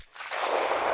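Suppressed AR5-SD rifle firing a single supersonic round, a short sharp muffled report with a quick crack, close and loud, fading over under a second.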